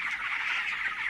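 Crowded chickens in a poultry shed holding about 900 birds, giving a steady dense chorus of clucking and calling that carries throughout, moderately loud with no talk.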